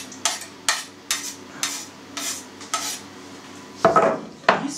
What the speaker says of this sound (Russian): Отправляем в наш фарш нарезанный лук